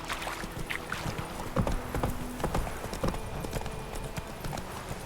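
A horse trots in The Witcher 3 video game, with an even, close clip-clop of hooves over faint background game ambience.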